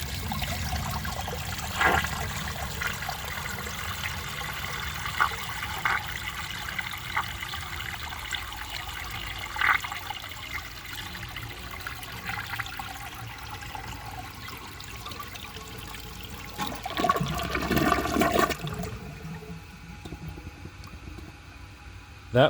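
A 1976 American Standard Cadet toilet with a clogged siphon jet flushes: a loud, sustained rush of water that swirls for many seconds, then cuts off sharply into a quieter trickle of refill.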